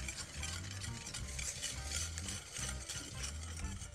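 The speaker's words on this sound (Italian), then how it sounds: "E iniziamo a mescolare il tutto." A utensil stirs a mixture with vanilla and grated lemon zest in a bowl, giving a soft, steady scraping swish with faint low knocks, close and quiet, with no voices.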